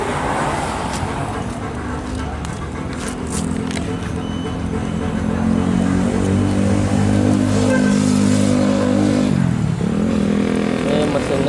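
A two-stroke Vespa scooter carrying six riders on a long road trip, its engine droning steadily and rising in pitch, close by with road noise around it.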